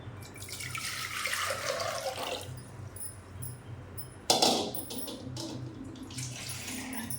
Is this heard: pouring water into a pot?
yes